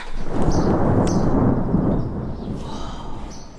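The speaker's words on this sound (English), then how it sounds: "It starts raining again." A dense, steady wash of rain on a campervan with a deep rumbling undertone, loud and close throughout.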